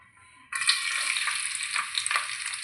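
Garlic for homemade chilli chicken hits hot oil in a pan and starts sizzling abruptly after a quiet moment, then keeps up a steady close frying hiss with small pops and stirring.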